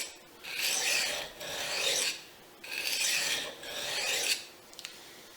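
A Fujimoto honesuki knife is drawn across a diamond sharpening stone in about four long, even, gritty rasping strokes, close and clear, with short pauses between strokes and no talk.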